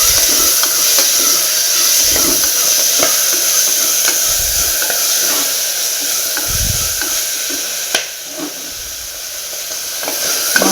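Washed green peas with a pinch of turmeric stirred in a hot pan, a continuous loud sizzle with repeated scraping and knocking of the spoon against the pan, close, a sharper clack near the middle.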